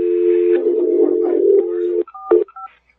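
Telephone keypad tones dialed into a call during a live radio show broadcast, a steady tone pair under chatter followed by a few short separate beeps, fairly loud and close.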